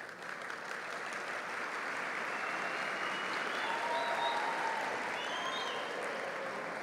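Audience members at a tech talk on web debugging clap steadily, a moderately loud sustained patter of many hands lasting the whole stretch without letup.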